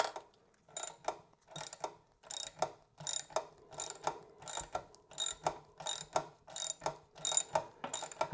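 A ratchet wrench clicks rhythmically, about a dozen close, crisp pulls, tightening a lock nut on the exhaust of a Factory Five MK4 Roadster kit car under construction.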